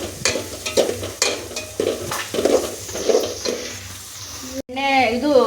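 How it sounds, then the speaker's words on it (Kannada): Chopped onions fry in hot oil in a home kitchen, a steady sizzle broken by repeated scraping strokes of a stirring spoon against the pan, close and fairly loud, with a brief voice near the end. "ಸ್ವಲ್ಪ ಎಣ್ಣೆ ಕಾಯಬೇಕು ಈರುಳ್ಳಿನ ಹಾಕಬೇಕು ಸ್ವಲ್ಪ ಫ್ರೈ ಆಗಬೇಕು"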